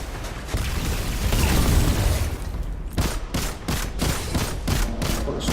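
Skyburner's Oath firing in Destiny 2: a dense, continuous barrage of loud blasts for about three seconds, then a steady run of distinct, evenly spaced sharp shots, close and up front with no voices.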